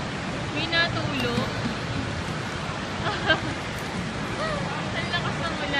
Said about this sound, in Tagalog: Sobrang lakas ng ulan, grabe.